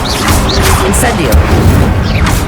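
Incendio fire spell cast in Hogwarts Legacy, a burst of fiery magic erupting with a loud whooshing boom and crackling impact amid other battle effects, layered under a voice in the short clip.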